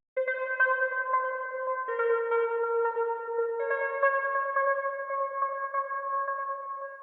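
A Connect Chords arpeggiator patch from Alchemy in Logic, used to remake a pop song: three sustained notes shimmer with a soft repeating pulse, the chord shifting twice, clean and alone.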